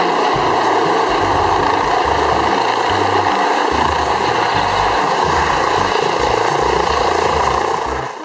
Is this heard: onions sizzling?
no